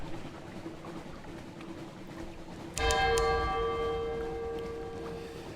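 A church bell in the video game Sunless Sea strikes once with a loud, ringing metallic toll that hangs and slowly decays over a low ambient drone, with no talking.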